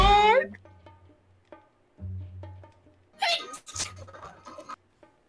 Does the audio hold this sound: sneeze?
yes